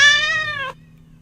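A single loud, close cat meow, drawn out and falling slightly in pitch before cutting off into silence.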